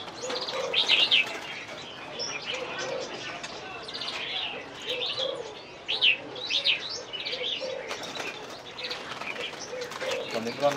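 Caged songbirds among about a thousand ornamental birds at the Vạn Phúc antique market in Hà Đông chirp and tweet in bright repeated bursts, with wing flaps and cooing pigeons mixed in and people talking nearby.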